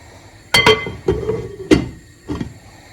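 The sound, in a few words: stirring stew ingredients together in a pot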